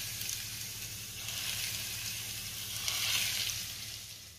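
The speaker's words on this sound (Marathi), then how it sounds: "तेलामध्ये हिंग आणि कोथिंबीरची फोडणी घातली" Hot oil tempering of asafoetida and chopped coriander poured onto chutney, a steady soft sizzle with a low hum underneath that swells briefly near the end.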